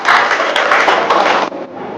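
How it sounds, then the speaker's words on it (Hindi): A crowd applauding steadily at a prize distribution, dense clapping filling the whole stretch, dipping briefly then carrying on. "सर के लिए भी तालियां।"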